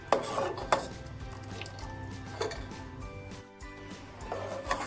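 Melting ghee is stirred in a thick pot, with a spoon clinking and scraping against the metal in several distinct knocks over a low background simmer.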